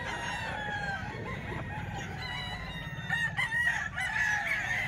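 A three-year-old Gilmore hatch gamecock rooster crows once near the end, a strained, rising call over quiet background noise.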